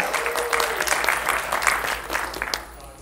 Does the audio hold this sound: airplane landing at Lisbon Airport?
no